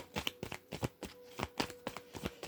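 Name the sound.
shuffling tarot cards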